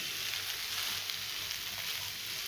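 Soya chunks and rice fry in a pan with a loud, steady, close sizzle that holds evenly throughout.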